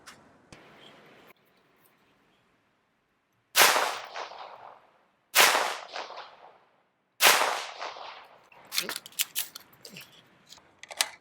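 Three loud, sharp gunshots from a Daniel Defense 300BLK PDW firing Fiocchi 150 grain FMJ practice rounds, spaced about two seconds apart and each ringing out briefly. A quicker burst of cracks follows, with faint talk at the start.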